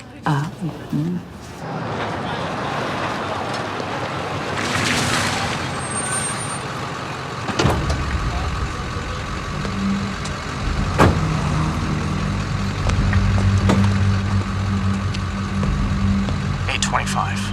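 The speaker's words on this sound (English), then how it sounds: "Armored truck delivery." An armored truck arrives for a delivery, its engine rumbling steadily nearby with a hiss resembling air brakes, under ongoing talk and some background clatter.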